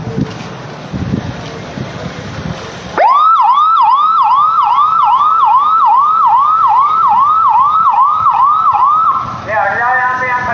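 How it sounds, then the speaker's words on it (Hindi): Police car siren in a crowded street outside a vote-counting site in Mathura, sounding loud and close in a steady rising-falling wail for about seven seconds after a muffled start, then switching to a faster yelp at the end. "पुलिस की गाड़ी लगातार सायरन बजाती हुई आ रही है।"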